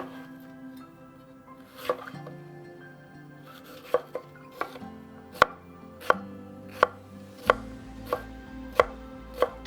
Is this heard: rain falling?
no